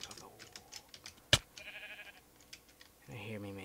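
In the Minecraft video game, a sheep bleats in the middle distance among soft clicking and tapping, with a sharp click and a brief low tonal sound near the end.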